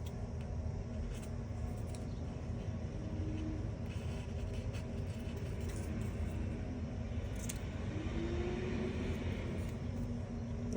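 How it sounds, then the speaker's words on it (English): Trucks rumbling past on a campus, a low continuous engine drone at a distance, steady and fairly faint, with occasional rising whines from passing vehicles. "There's a lot of trucks going on campus today"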